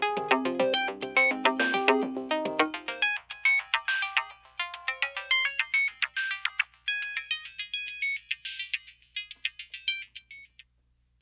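A Spectralis synthesizer plays a bright, plucky sequenced pattern through its filter bank; as the bands close, the low and mid body drains away, leaving thin high tones that gradually fade to near silence.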